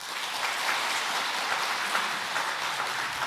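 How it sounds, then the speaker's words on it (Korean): Congregation applauding during a church installation thanksgiving service, steady dense clapping from many hands filling the room evenly throughout. "박수 한번 해주세요."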